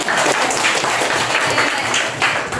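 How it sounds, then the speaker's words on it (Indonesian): Applause from a classroom of primary school pupils during a guidance lesson, steady clapping filling the full stretch at close range. "tepuk tangan untuk Rido."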